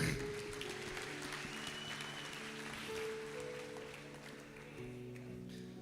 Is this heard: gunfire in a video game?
no